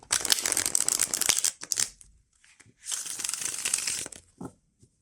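Crisp riffling bursts of tarot cards being shuffled, close and fairly loud, in two long runs with a pause between and a few softer taps after.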